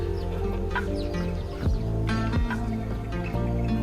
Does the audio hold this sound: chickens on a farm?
yes